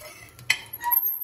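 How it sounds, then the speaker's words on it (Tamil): A utensil cuts a finished omelette into four squares in a pan with the gas off, making a few quiet metallic clinks and scrapes over a short, otherwise hushed stretch. "நாம இந்த ஆம்லெட்டை 4 ஸ்கொயராக கட் பண்ணிக்கலாம்."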